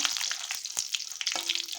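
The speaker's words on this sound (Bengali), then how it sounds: "ডালের বড়িটা দিয়ে ভালো করে নেড়ে নেব।" Lentil dumplings (dal bori) frying in oil with panch phoron, a steady bright sizzle broken by short scraping stirs of a spoon in the pan, close and moderately loud, no talk.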